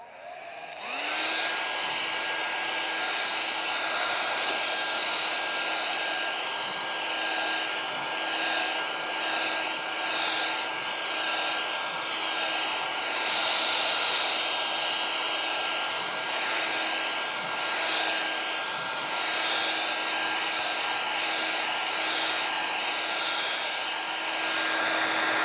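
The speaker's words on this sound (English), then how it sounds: "I'm going to get my hairdryer, and we're going to blow this painting" A hairdryer blows steadily to dry a thin layer of paint on a painting, a loud continuous whirring hum that starts abruptly and runs unbroken for the whole stretch, with no talking.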